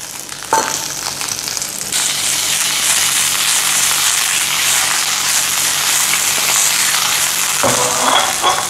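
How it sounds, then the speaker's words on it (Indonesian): King cobia fish sautéing in a hot pan: loud, even sizzle with bursts of stirring and scraping near the start and close to the end, with no voices. "Ya, ini kita tumis."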